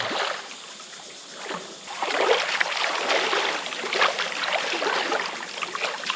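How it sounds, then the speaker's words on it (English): Water splashes and churns in a flowing outdoor stream after an enduro ride on a Suzuki DRZ400E, with bursts of close splashing over a constant rushing background. "Let's just jump in and finish off this ride with a bit of a splash"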